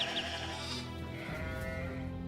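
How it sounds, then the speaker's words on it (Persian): Sheep bleat in a drawn-out, wavering cry that holds for a couple of seconds, loud and close over a low background. "ایروز موسی خوزنپیر گوسفندانه چرا کودن وستی ببرزه بیرون"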